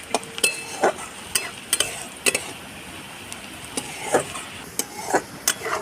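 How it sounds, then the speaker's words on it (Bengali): Onions frying in a pan with a little turmeric, a soft steady sizzle broken by repeated sharp scrapes and stirring clicks of a spatula, close and fairly quiet with no talk. "পেঁয়াজটা ভালো করে লাল লাল করে ভেজে নিতে হবে"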